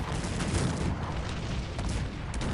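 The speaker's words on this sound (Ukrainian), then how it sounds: "Чи буде зараз залп сюди?" Cossacks 3 artillery battle, massed guns firing in a dense, rumbling barrage of overlapping booms and cracks, steady and loud throughout without a clear single blast.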